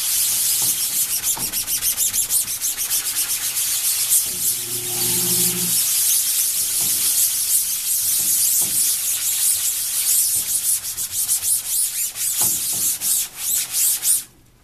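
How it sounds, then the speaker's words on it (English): Continuous brisk scrubbing, a blue scrub brush rasping back and forth against a screen-printing screen to break down emulsion, with a short squealing tone partway through before the scrubbing stops abruptly. "So we can take our blue scrub brush,"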